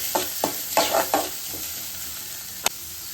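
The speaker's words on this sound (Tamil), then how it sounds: "வெங்காயம் நல்லா வதங்கிட்டே இருக்கு" Onions and curry leaves sautéing in a pan for egg gravy, a few close scraping stirs over a soft sizzle, then a quieter stretch of frying and one sharp clink of the spoon.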